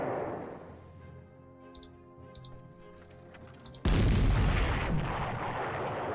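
An 88 gun fires at enemy units in the Panzer Corps video game with a sudden loud booming blast that follows quieter clicking interface sounds and lingers as a dense roar.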